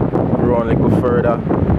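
Strong wind buffets the microphone on a Jamaican beach beside a rough sea, loud rumbling gusts roaring nonstop while someone talks over it.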